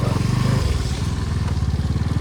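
A motorcycle engine putters steadily at close range with a loud, rhythmic low drone while the bike pushes through a water-filled puddle on a rough road, with faint clatter over the engine.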